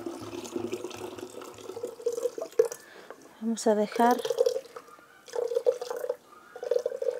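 Soaked horchata mixture is poured into plain water, giving splashing, trickling liquid sounds in bursts, close and moderately loud, with a person talking over parts of it.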